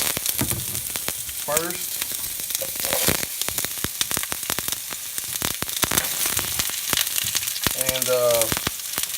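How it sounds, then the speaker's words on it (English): Onions going into Tuscan olive oil infused with basil and herb oils, crackling and sizzling loudly and continuously in a pan, with brief bits of a voice over the frying. "We'll go ahead and get our onions going"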